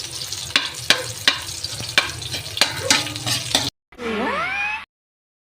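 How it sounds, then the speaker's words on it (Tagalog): Meat sautéing in a pan with onions for adobong kangkong, a steady sizzle broken by a run of sharp, regular scrapes and clinks of a utensil stirring, then a brief gap and a short burst of squeaky, gliding sounds. "Gigisa natin yung karne."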